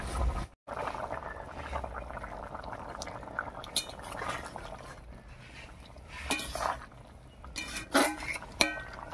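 A few metallic clinks and clatters of a lid settling onto a cooking pot of jackfruit curry with garam masala powder, spaced over a low simmering hiss, fairly close.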